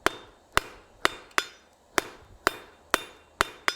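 Blacksmith hammering hot metal on an anvil, rounding up a piece, eight sharp ringing strikes at a steady, slightly uneven rhythm, each with a short decaying ring, close and alone.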